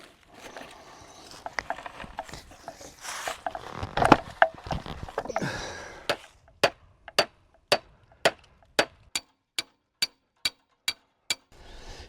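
Sharp hammer blows ring out, first irregular amid clattering, then a steady series of about a dozen evenly spaced strikes.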